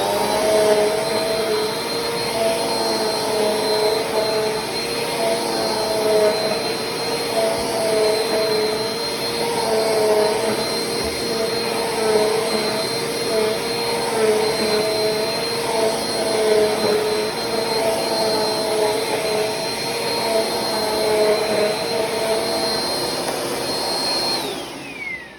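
A Bissell Cleanview Compact Turbo 3437F upright vacuum cleaner runs continuously on a dryer vent mess test, giving a loud, steady whining roar with a high motor tone that holds unchanged throughout, with no voices.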